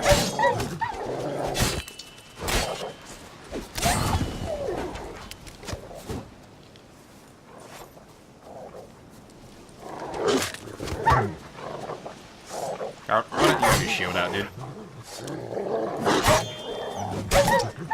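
Dogs growl and snarl while attacking in the video game The Witcher: Wild Hunt, coming in harsh, repeated bursts mixed with combat clatter, and someone talks briefly over the fighting.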